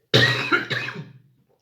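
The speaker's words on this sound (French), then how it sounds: "Ça m'en fait même tousser d'ailleurs." A single close, loud cough from one person, a harsh burst followed by a second shorter expulsion, trailing off into silence.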